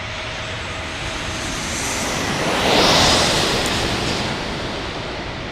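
An airliner arriving at San Diego airport passes overhead, a broad roaring jet rush swelling steadily to a loud peak midway and then slowly fading, heard alone without talk.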